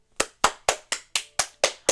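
Eight sharp, evenly spaced hand claps from a single person, close and loud with short gaps between them, mimicking applause.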